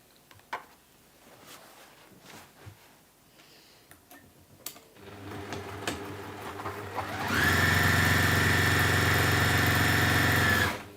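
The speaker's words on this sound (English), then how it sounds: "And then we're just going to run a line of stitching across there." A sewing machine stitching a line across two pieces of fabric: a few handling clicks and a low start-up whir, then a loud, steady motorized hum with rapid needle action for several seconds before stopping.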